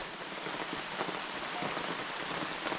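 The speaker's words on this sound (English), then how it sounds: "So as the heavy rain continues, I have timed this line through which goes the rain drops and into the pot." Heavy rain falls steadily outdoors at a makeshift wilderness shelter in Lithuania, with drops running along a line and dripping into a collecting pot, a dense continuous patter with faint individual drips, no voices.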